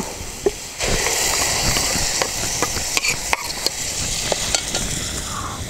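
Ground masala hits a hot pan for a prawn, ginger and onion curry and fries with a loud, close hiss, broken by scattered spatula scrapes and taps as it is stirred, with no voices.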